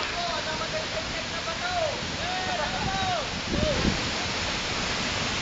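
Dawara Falls pours as a steady, dense rush of nearby falling water, with people talking over the constant roar.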